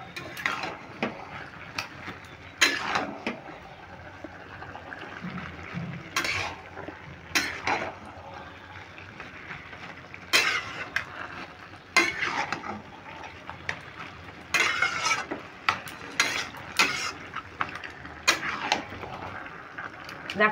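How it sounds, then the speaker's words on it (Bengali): A utensil stirs fish heads and shredded cabbage in a pan while cooking a Bengali catla fish head cabbage curry, giving irregular close clinks and scrapes under occasional talking. "এবার আমি ভালো করে নেড়ে দিচ্ছি।"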